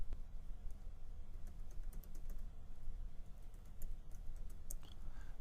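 Typing on a computer keyboard, a quick run of light key clicks over a low background hum, close and steady for several seconds.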